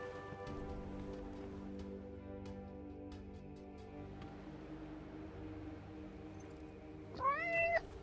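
A cat meows once near the end in the video game Forspoken, a short rising and falling cry heard over a steady rain-like ambience and low droning music, fairly quiet overall.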